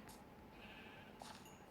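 A sheep in a survival video game gives two short, faint bleats about a second apart over a quiet, steady background.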